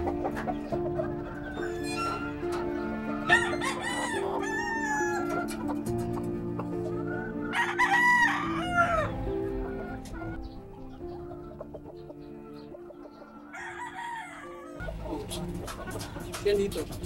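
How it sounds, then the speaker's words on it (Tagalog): Chickens cluck continuously nearby with occasional rooster calls, while people talk over the busy flock throughout. "Puro na lang manok."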